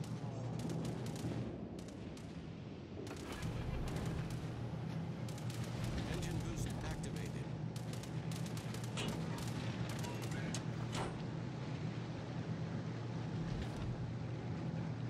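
Naval gunfire from destroyer battles in World of Warships Legends, repeated sharp cannon reports over a rumbling engine and sea drone, with a player talking over it.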